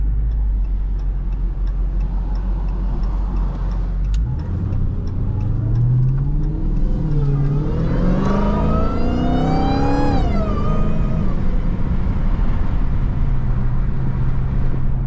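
A Dodge Hellcat engine revs hard and accelerates in traffic from the driver's seat, its loud, steady idle rising into a rapid surging wail through several climbing pulls before settling back to a rumbling cruise.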